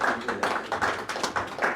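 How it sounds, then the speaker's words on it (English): A small audience at a books and leadership summit gives a hand, irregular claps in short bursts at moderate distance, fairly faint and sparse. "Please give her a hand of applause there."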